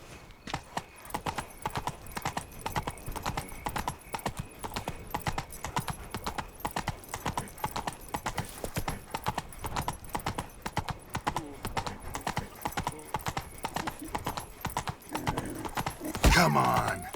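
Roach, the horse in The Witcher 3, galloping with a steady rapid clip-clop of hooves throughout, ending with a louder burst of sound near the end.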